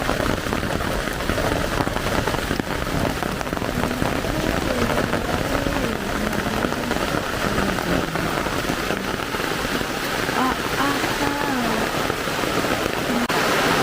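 Heavy rain pours down in a continuous loud hiss, dense and unbroken throughout, with a low rumble beneath and a faint voice now and then.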